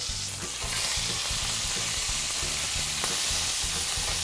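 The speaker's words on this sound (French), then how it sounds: "Le fait de bien saisir la viande de tous les côtés marque une belle caramélisation" Chunks of beef sear in a hot pan for braised beef, with a steady, close sizzle and crackle running throughout and a low rhythmic hum beneath it, and no voices.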